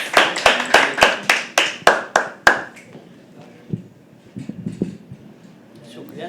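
At a live poetry open mic, a small audience claps in slow, evenly spaced, loud hand claps, about eight in a row, which then stop, giving way to quieter murmured voices and faint shuffling.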